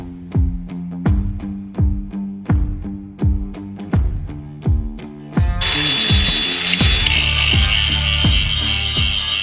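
A ratchet wrench clicks in repeated close, loud bursts while tightening the LED bracket bolts on a 2005 Chevy Silverado bumper, then gives way to a steadier mechanical whir.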